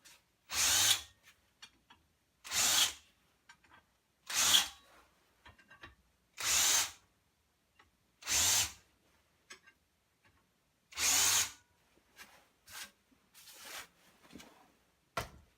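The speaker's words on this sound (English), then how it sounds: "It just also works as a real nice deburring tool and just clean up all these holes." A power drill fitted with a deburring tool cleans out holes in a snow shovel wear strip, running in seven short whirring bursts separated by quiet pauses, with faint handling clicks between.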